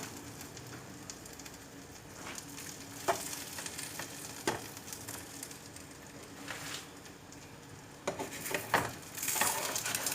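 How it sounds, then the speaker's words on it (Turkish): Gözleme frying in an oiled pan gives a steady, close sizzle with scattered crackles and occasional scraping taps from a utensil. "Evet gördüğünüz üzere hemen çabuk kızardı yağladıktan sonra"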